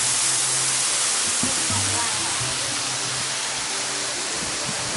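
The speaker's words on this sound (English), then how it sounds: "Look at this waterfall." Pha Luang Waterfall in Ubon Ratchathani, Thailand, roaring steadily as a dense, continuous rush of falling water. The sound holds loud and unbroken, with faint low murmurs underneath.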